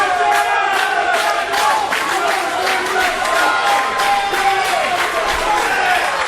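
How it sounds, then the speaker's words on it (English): A wrestling crowd at a tournament match cheers loudly and steadily, with rhythmic clapping and shouts throughout. "And this crowd is absolutely electric."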